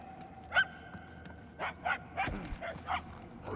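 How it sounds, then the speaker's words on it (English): A dog barks in short, repeated yaps and whimpers at a distance within the corridors of the Marvel's Guardians of the Galaxy video game, several bursts spaced irregularly, fairly faint and echoing. "The barking is getting fainter."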